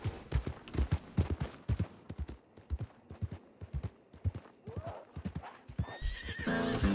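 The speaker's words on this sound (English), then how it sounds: "Just look at that horse." Hooves clop in a steady rhythm, close and clear, with a horse whinnying toward the end amid scattered sharp bursts, from a video game.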